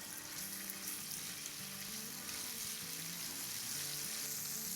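Whole cumin seeds and garlic paste sauté in hot oil, giving a steady, soft sizzle and crackle that continues throughout with no speech.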